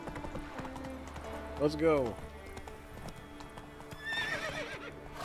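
Horse hooves clip-clop at a gallop in The Witcher 3: Wild Hunt, joined by a loud neigh midway, with a person talking over the steady hoofbeats.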